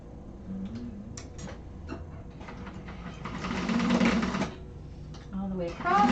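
Sewing machine stitching a straight 3/4-inch seam along the edge of a tote bag, a steady whirring run of stitches that builds in the middle, with someone talking over it.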